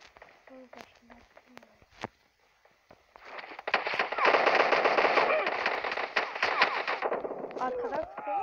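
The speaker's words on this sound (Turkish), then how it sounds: "Arkada sıkıyorlar, yanda sıkıyorlar da işte" Gunfire in the PUBG Mobile battle game: scattered single shots at first, then from about three seconds a dense, sustained burst of rapid automatic fire, with a player talking throughout.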